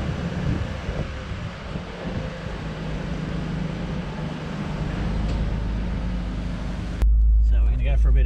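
A Toyota Supra JZA80 fitted with MCA Street Essentials coilovers drives on the street. A steady engine and road rumble with wind buffeting the microphone gives way near the end to a louder, deeper rumble.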